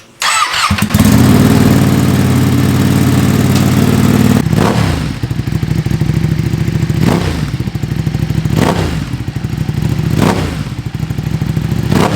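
A Ducati Streetfighter V2 with a full Akrapovic exhaust starts and idles loudly nearby, a steady chugging rumble punctuated by several short throttle blips at regular intervals.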